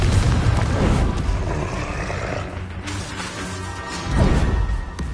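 Confringo blasting spell in a Harry Potter video game: loud crashing impacts and booms with whooshing swishes, continuous combat noise and a heavy smash near the end.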